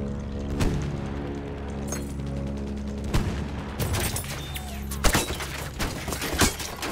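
Gunfire and explosions in the Battlefield 1 game during tank fighting, scattered sharp cracks and booms over a steady engine drone, with someone talking intermittently.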